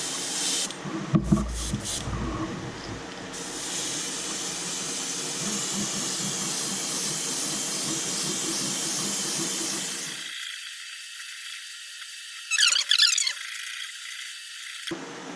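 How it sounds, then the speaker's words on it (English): Spray paint hisses steadily onto a fire tiger crankbait fishing lure, a long continuous spray for about ten seconds, then a brief second burst after a pause. "I'm going to spray it right along the back here"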